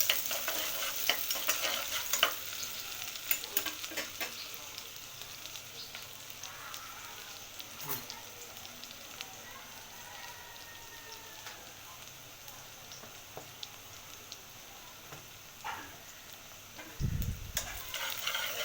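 Onions frying in a pan ahead of shrimp make a steady, soft crackling sizzle throughout, with occasional stirring clicks and a brief thump near the end, no one speaking.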